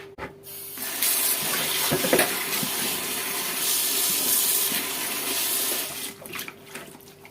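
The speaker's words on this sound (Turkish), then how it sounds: "Şimdi patlıcanlarımızı güzel bir yıkayalım." Eggplants being washed under a running kitchen tap give a steady, close rush of water splashing in a sink, filling nearly the whole stretch and breaking off abruptly just before the end.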